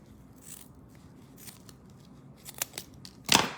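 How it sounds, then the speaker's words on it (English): Scissors snip through excess paper while a greeting card is being crafted, a few quiet, close clicks followed by a louder final cut, with no talking. "I'm going to cut the excess"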